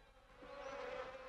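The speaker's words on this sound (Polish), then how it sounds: "Muchy! Wściekłe muchy!" Angry cartoon flies buzzing in a swarm, a steady whining hum that swells slightly and holds for about a second without any voices.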